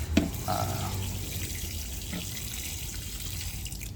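Water trickles and splashes softly at close range as a plant pot is watered, a faint steady pour with a couple of small knocks early on.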